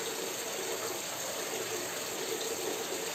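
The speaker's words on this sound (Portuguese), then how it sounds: "Água mineral diretamente da fonte." Mineral water flowing straight from a spring in winter, a steady loud continuous rush and splash close by with no pauses.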